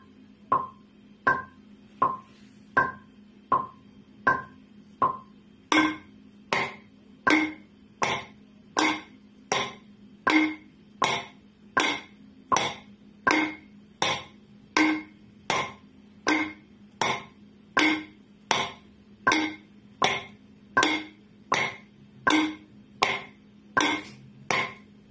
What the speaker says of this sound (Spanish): Y con el metrónomo suena así